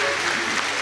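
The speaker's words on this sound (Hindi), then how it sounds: "सभी साधक साधिका एक बार पुनः एक दूसरे के लिए तालियों की गड़गड़ाहट कर रहे हैं।" Brief, steady burst of audience applause from devotees clapping for one another at a spiritual satsang gathering, dense and continuous throughout.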